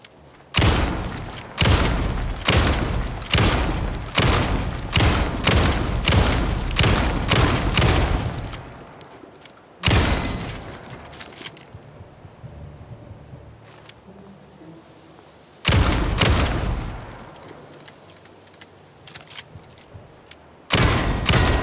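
Loud bursts of rapid gunfire from the Alan Wake 2 video game arrive in dense volleys, pause into quiet, then return in shorter bursts, with no talking.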